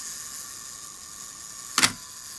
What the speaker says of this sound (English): You wind it down, you tap it up, and then you wait a few seconds for the shutter to fire.